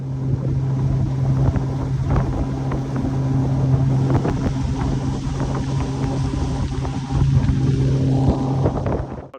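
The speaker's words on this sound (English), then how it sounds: "we actually got to take the boat out." A motorboat runs across open water with a steady engine drone and hull noise, mixed with wind buffeting the microphone, continuous throughout.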